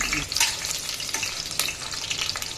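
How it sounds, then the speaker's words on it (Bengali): Potato pieces frying in hot oil for a Sunday lunch, giving a loud, close, continuous sizzle and crackle with occasional stirring. "আলুটা একটু লাল লাল করে ফ্রাই হচ্ছে"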